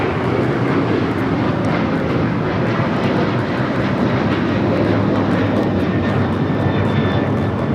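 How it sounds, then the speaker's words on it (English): A Boeing 777 relocation flight to Dallas-Fort Worth takes off at Los Angeles LAX, its jet engines a loud, steady, broadband roar that holds throughout with no talk. "This 777 is going to be taking off to Dallas-Fort Worth."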